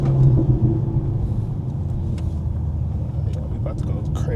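A Mercedes-AMG C43 with a four-cylinder engine rumbles steadily while driving at night, its low exhaust burble and engine drone continuous and close, with a person talking over it.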